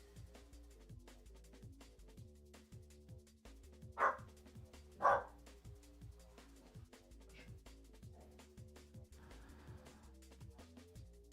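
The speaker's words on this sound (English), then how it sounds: "That's my dog there in the background." A dog barks twice in the background, short distant yelps at a billiards tournament venue, over steady low crowd murmur and the clicks of pool balls.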